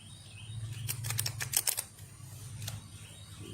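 Tarot cards are shuffled in a short run of quick, crisp riffling snaps over a low background hum, followed by one more brief shuffle.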